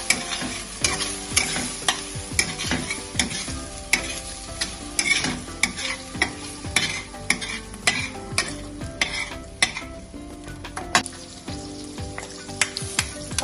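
Fried noodles with meatballs are stirred in a sizzling pan: a rapid, irregular run of spatula clicks and scrapes over a constant frying hiss, fairly close with no talking.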